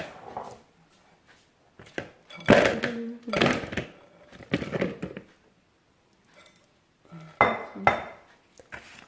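Chicken wings being stirred in hot sauce in a pot, giving irregular scraping and clanking bursts of utensil against the pot, close, separated by quiet gaps, no talking.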